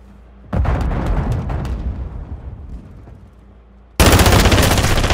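In Call of Duty, a thrown grenade explodes with a loud boom that fades over a few seconds amid scattered gunfire, then a sudden dense burst of loud automatic fire breaks out at the end.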